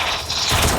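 A bomb blast erupts in a video game, a short loud burst that thickens into a rumbling, crackling roar near the end, with no voices.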